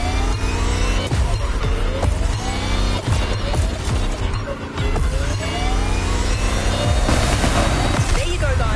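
Lamborghini Terzo Millennio electric hypercar racing to the finish in The Crew Motorfest on PS5 in Hawaii, a loud continuous whining drive with pitch sweeps, impacts and music-like layers throughout, with a voice talking over parts of it.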